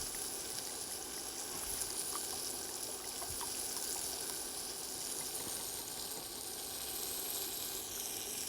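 Butter melts in a pan on the stove, giving a steady, soft sizzle with faint crackles and a watery hiss that runs evenly from start to finish, with no talking over it.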